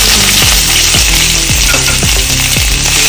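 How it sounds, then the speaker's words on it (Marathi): Sliced onion frying in two spoons of hot oil in a pan, a loud, steady sizzle running throughout with repeated scraping stirs, no voices. "आम्ही 2 चमचे तेल घालूया आणि उभो चिरलेलो कांदो भाजून घेऊया"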